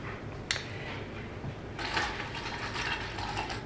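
Nespresso Vertuo Plus coffee machine brewing a double espresso pod: a steady mechanical whir and rattle with a click early on, then a louder, hissing pump and spin sound as dispensing ramps up, close and without talking.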